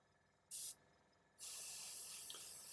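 An airbrush sprays paint onto a miniature Warmaster Iconoclast titan model, with one short hissing burst followed after a pause by a longer steady spray, close and fairly loud in a quiet room.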